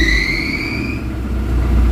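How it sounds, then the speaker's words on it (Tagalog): An Isuzu Crosswind diesel engine with a high, shaky idle revs steadily as the accelerator is pressed, a loud close rumble with a faint whine that fades, no talking. "Dahil mataas yung minor at nanginginig, kailangan mo i-apakan yung accelerator"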